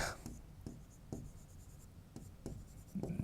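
Chalk or marker strokes scratch across a board during a maths lecture on differential calculus and curve tracing, a series of short, quick, close writing strokes with brief pauses between them.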